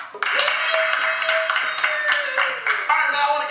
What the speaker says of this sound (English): now I want to give a huge round of applause to our winner